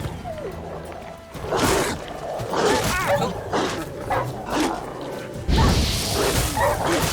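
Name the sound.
dogs barking in video game The Witcher 3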